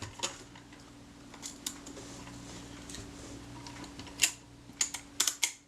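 Quiet mechanical clicks and small ticks near the mic as the shutter of a vintage Voigtlander Perkeo I camera is set, ending in a quick cluster of sharper clicks like the shutter being tripped.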